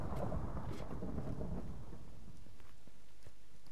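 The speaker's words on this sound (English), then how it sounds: "Why is there thunder over there?" Thunder in the video game Bluddecraft rolls and rumbles loudly at first, then fades into a softer, distant patter resembling rain, with no speech.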